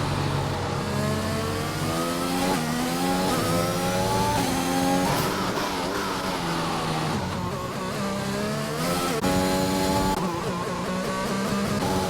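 Loud race car engine in an F1 esports racing game, revving steadily throughout with rising and falling pitch as gears shift, no talk.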